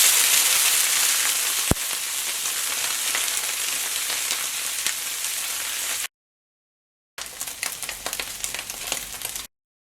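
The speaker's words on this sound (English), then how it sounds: "we're just going to fry the omena in a pan so it dries out the liquid and also gets flavor" Omena (dagaa), small dried fish, frying in a pan with a steady, dense crackling sizzle close by, briefly cut to silence for about a second before the sizzling resumes with sharp pops.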